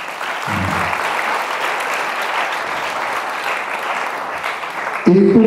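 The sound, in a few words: applause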